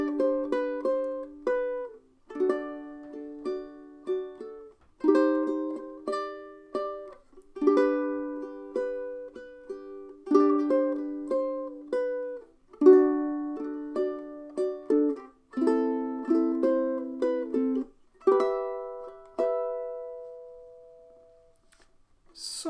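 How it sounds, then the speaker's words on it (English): Solo ukulele plays a song, with gently plucked chords and single notes ringing out and decaying in a slow, unhurried rhythm, close and clear, ending on a long fading note. "I'm going to try and do it justice on the uke, and it's going to sound something like this."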